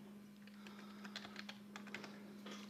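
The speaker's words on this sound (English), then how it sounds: "So I will type in the channel name here" Quick clicking keystrokes on a computer keyboard as a channel name is typed, close and fairly quiet, in uneven bursts over a steady low electrical hum.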